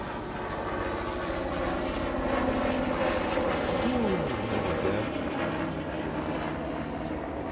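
A local helicopter flying overhead gives a loud, continuous droning rotor and engine roar, with a tone that sweeps downward as it passes by. No one speaks.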